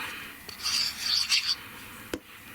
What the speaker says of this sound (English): kind of give it a rub